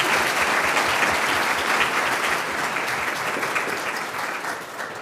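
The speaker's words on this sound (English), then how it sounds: "Please give our panelists a big round of applause" A town hall audience applauds its panelists with sustained, dense clapping from many hands that holds steady before slowly tapering off near the end.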